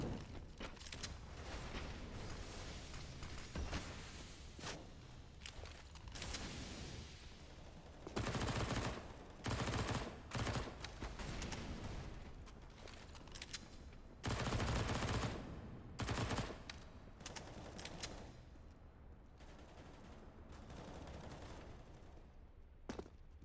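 Bursts of MP9 submachine gun fire in Counter-Strike, several rapid fusillades of close-range shots in short clusters, separated by quieter stretches of game ambience.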